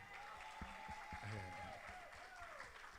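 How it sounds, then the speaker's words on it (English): Faint crowd applause spreads across an audience at a talk, with a voice speaking over the scattered clapping. "can everybody give my father a round of applause"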